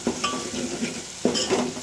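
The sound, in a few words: stirring turmeric into chillies cooking in a pan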